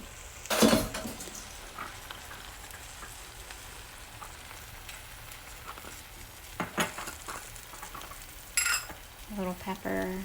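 Eggs frying in a pan with spinach and tomatoes give a soft, steady sizzle, broken by a few clinks and scrapes of a utensil against the pan and some brief talk.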